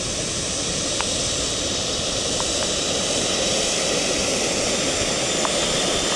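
A Model Studio Fouga Magister model jet in French test pilot school markings, on its second flight after repairs from a hard landing, gives a steady loud turbine roar and hiss that holds evenly throughout, with no voices.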